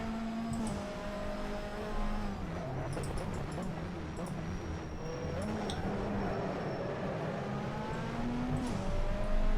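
Racing engine of a privateer BTCC touring car in rFactor 2, lapping the island layout of Alton Park, a steady loud drone with rising and falling gear pitch that climbs under acceleration, other cars' engines close by throughout.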